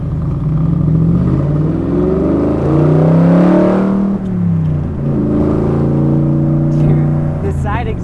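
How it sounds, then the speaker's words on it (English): A Shelby Cobra replica with a Ford Coyote engine and side exhaust drones loudly at close range, rising and falling through revs, with people talking over it. "I'm surprised how well the Coyote sounds with it"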